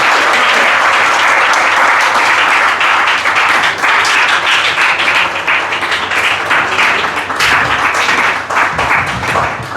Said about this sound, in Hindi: आप सभी लोग एक बार जोरदार तालियों से स्वागत कीजिएगा